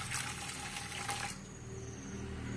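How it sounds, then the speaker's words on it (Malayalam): Hot water pours into a pot set inside a rice cooker, a short steady splashing stream that stops partway through, leaving a quiet hum. "ഈ പാത്രത്തിന്റെ മേലെ ഈ പാത്രത്തിൽ കുറച്ച് വെള്ളം ഒഴിക്കുക"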